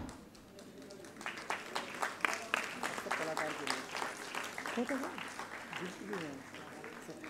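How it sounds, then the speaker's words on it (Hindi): Audience applause at a Sikkim and Uttar Pradesh memorandum-of-understanding ceremony honouring Sikkim artists: a steady patter of many hands clapping at moderate distance, running the length of the clip beneath someone speaking over a sound system. "एक बार पुनः जोरदार तालियां"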